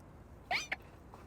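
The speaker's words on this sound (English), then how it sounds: "Meow, meow, meow." A cat's meow from the Pokemon Legends: Z-A video game, two short high cries in quick succession, the first stronger, over a quiet background with no talking.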